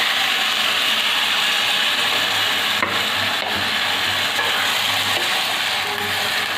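Potatoes and taro sauté with spices and a splash of water in a pan, giving a steady, dense hiss of frying with faint scraping stirs, continuous and close throughout.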